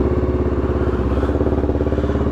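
A loud 1990 Honda GB500TT vintage carbureted single-cylinder motorcycle engine runs up close, with an even, rapid thumping beat throughout and no talking.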